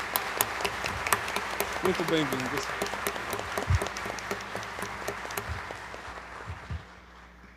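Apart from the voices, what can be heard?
congregation applause welcoming priest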